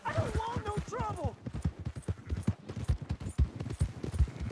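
Horse hooves clip-clop in a quick, even rhythm in the game Red Dead Redemption 2, with brief voices talking over the opening.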